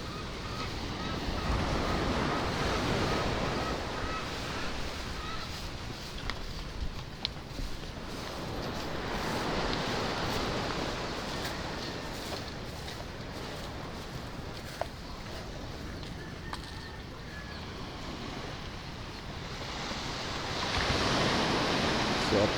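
Ocean surf rolls and breaks continuously on a beach where fisherfolk hold a cleanup, a loud wash of waves mixed with wind buffeting the microphone, with no talking over it.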